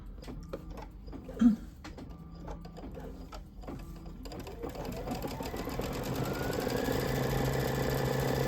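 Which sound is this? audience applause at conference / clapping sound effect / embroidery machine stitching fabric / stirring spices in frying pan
embroidery machine stitching fabric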